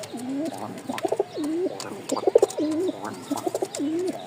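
A male pigeon coos repeatedly in a breeding mood, a rolling series of low throaty calls with short bursts of wing or body fluttering, close and clear.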